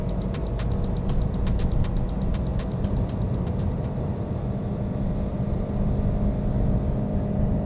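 A sports car at full throttle on Fuji Speedway, fitted with budget Chinese sports tires, roars loudly and steadily with a dense engine drone and rhythmic ticking in the first half, heard from inside the car.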